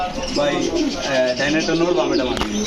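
Gola kosha pigeons cooing in a bird market, soft repeated coos blending with other bird calls under steady crowd chatter and talking voices nearby.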